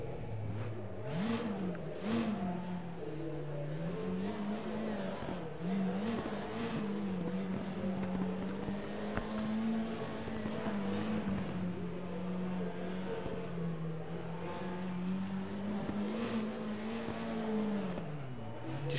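Race car engine in the RaceRoom game at Imola, droning steadily up close and rising and falling through repeated revs for the whole stretch, with no talking.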